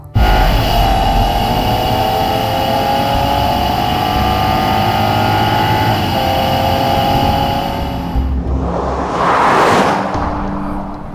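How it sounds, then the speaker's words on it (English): Cabin of a Rolls-Royce Dawn cruising at high speed on the open road: a steady, loud broadband wind and road roar with a constant low drone, easing briefly near the end as a soft whoosh swells. "Can't believe how quiet this car is, even at 120 miles an hour."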